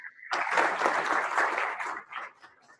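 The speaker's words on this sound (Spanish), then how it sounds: "te vamos a dar un aplauso desde aquí" A short burst of audience applause closes a technical talk on DNSSEC and reverse DNS. Dense clapping starts abruptly, holds for under two seconds, then tapers into a few scattered claps.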